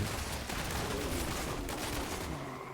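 Steady, dense game gunfire from shooting attacks in Diablo Immortal while farming monsters, loud and continuous for the whole stretch, close and unbroken, with no speech over it.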